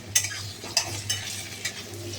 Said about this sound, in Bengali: আলুটা সাথে ভাজা ভাজা করে নেব